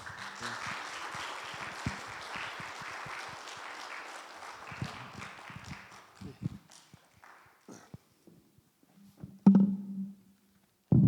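A church prayer-meeting congregation claps to welcome a missionary, moderate applause for about six seconds that thins into scattered claps, followed by footsteps and a brief voice.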